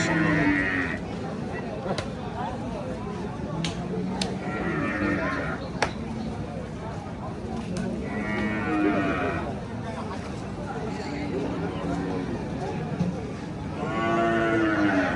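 Cattle moo repeatedly at the Hazratpur livestock market ahead of Qurbani, where a small, medium-sized local cow is on show. Several drawn-out, mid-distance lowing calls rise over a steady murmur of crowd chatter and nearby talking.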